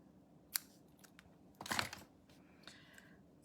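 Scissors cutting ribbon to make a bow: a few short, crisp snips and a brief rustling cut, fairly quiet against a still room with no talking.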